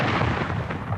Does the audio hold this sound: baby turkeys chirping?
no